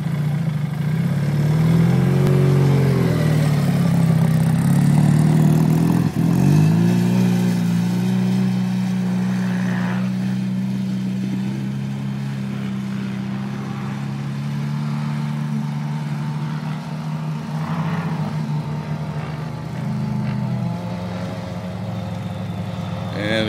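A boosted MCX vehicle's engine revs and then holds a steady drone throughout a ride, loud and close, with pitch shifts as it accelerates.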